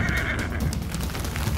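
A horse on a trail whinnies and shifts its hooves in a steady, close, fairly loud stretch, with no one talking over it.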